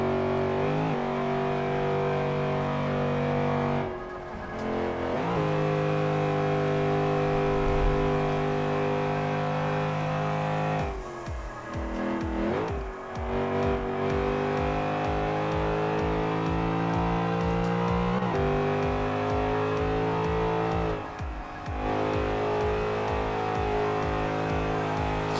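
Nissan Skyline engine in Forza 5, built as a Fast and the Furious B-class car, revving hard and accelerating through corners, loud and continuous, with sharp pitch drops at gear shifts and a rising drone building again after each.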